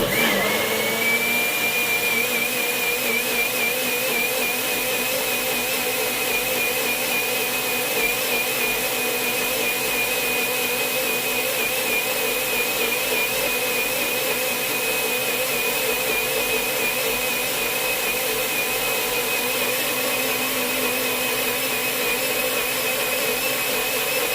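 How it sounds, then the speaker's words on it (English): Blender motor whirring loudly and continuously at a high steady pitch while blending vegan ranch dressing, close by, with no talking over it. "blend this, and it's gonna be a little noisy as usual"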